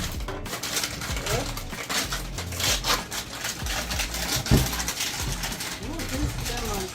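Fresh lemons are cut on a board for homemade lemonade, a few irregular knife taps and clinks among kitchen clatter, with someone talking over them.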